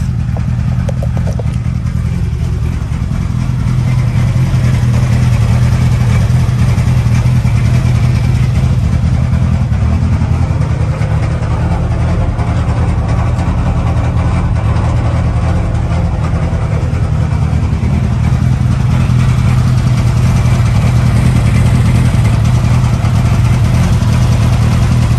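A Hillman Imp 1150cc engine idles with a steady, loud low rumble throughout, with a light rattle from its 5.5 inch clutch mixed into the running engine.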